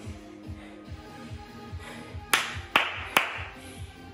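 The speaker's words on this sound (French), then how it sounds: "Je crois que tu peux t'applaudir" Three sharp, loud claps in quick succession near the middle, close by, at the end of a glute workout, over a quiet repeating low rhythmic background.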